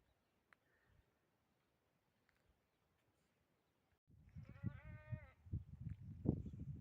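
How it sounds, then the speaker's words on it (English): A young goat kid bleats for its mother on a farm garden with olive trees, several wavering cries rising after a quiet stretch, fairly close and loud over outdoor background rustle. "There's a goat calling to its mother"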